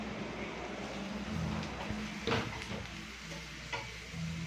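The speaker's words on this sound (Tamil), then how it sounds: "பாருங்க, நல்லா வதங்கி வருது." Bottle gourd sautés in a pan in a home kitchen, a low steady sizzle with occasional stirring scrapes and a few clinks of a utensil against the pan, heard close.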